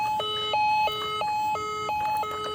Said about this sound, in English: we can turn it on and it can make sounds of ambulance.